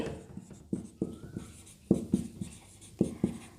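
Writing on a board during a Class 10 math lesson: chalk or marker strokes tap and scrape in short bursts, close and fairly clear, with brief pauses between strokes and no talking.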